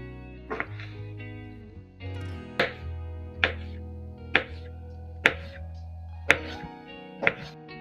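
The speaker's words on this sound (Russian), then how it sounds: "сначала нам нужно нарезать груши на дольки" A knife slices pears on a board, about eight distinct chopping thuds at a steady, unhurried pace, close and clear, with a low hum underneath.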